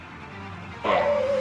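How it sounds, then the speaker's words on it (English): A dog gives a short yelp or whine indoors, brief and fairly close, after a quiet stretch of room noise. "I'm gonna have to stop my dog"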